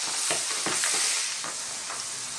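Squid adobo pieces deep frying in hot oil for a crispy finish, a bright continuous sizzle with several short bursts of stirring or bubbling, close and fairly quiet, no voices.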